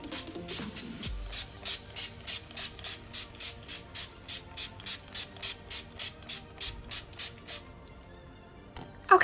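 Maybelline Dream Satin Mist setting spray hisses out in about twenty short, evenly spaced pumps in quick succession, close and crisp, followed by a brief pause and a clatter as the bottle is set down.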